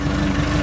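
A tractor engine idles nearby in a continuous low, throbbing rumble, with no speech heard.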